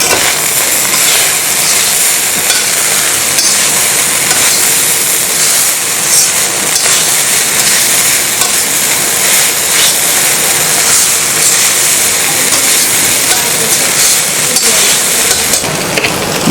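Restaurant-style chicken fried rice, seasoned with Chinese salt and black pepper, is mixed in a hot pan, producing a loud, unbroken roaring hiss close up, with no speech.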